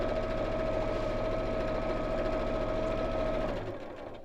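Sewing machine steadily stitching two layers of Decaville Light fusible interfacing with a universal needle, a fast even whirr held for several seconds that slows and stops near the end, no talking.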